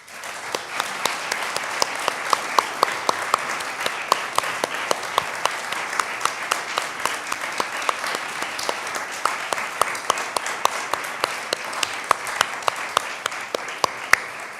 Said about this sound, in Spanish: para quien pido ahora un aplauso